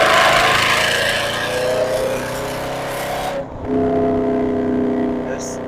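A Mercedes C63 drives and accelerates on a windy day, its engine droning loudly and steadily up close. Around the middle the engine note briefly drops, as if during a gear change, then it pulls strongly again.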